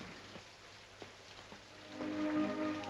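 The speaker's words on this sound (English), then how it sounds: "It's raining." Steady rain patters softly, with a few scattered drops and a faint tonal hum rising near the end.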